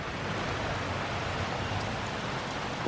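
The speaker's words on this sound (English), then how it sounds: "It is like pouring rain." Heavy pouring rain in Paris, a steady dense broadband hiss that fills the whole stretch evenly and loudly, with no voices over it.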